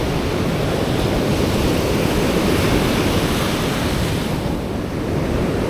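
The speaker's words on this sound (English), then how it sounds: "Oh, that big wave right there? That's gonna get me." Ocean surf rolls and crashes steadily onto a beach, a loud continuous wash of breaking waves with wind buffeting the microphone and no voices.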